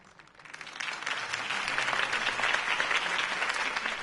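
Crowd applause in the video game Batman: The Telltale Series swells from quiet to a sustained, dense clapping that holds steady, sounding like a large audience.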